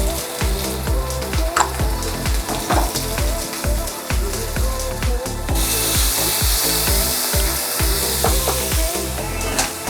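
Onions, mushrooms and pepper sizzle in a hot pan for a steak stir fry, a close, steady frying hiss with irregular clattering knocks throughout.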